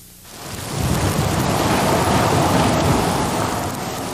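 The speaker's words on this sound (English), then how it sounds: "The skies rumbling as an onslaught of ice pellets continued to wreak havoc with roads and power lines." Deep thunder rumbles through steady, dense precipitation during a severe ice storm, with ice pellets pelting down; the roar builds quickly after a quiet start and holds loud and continuous with no voices.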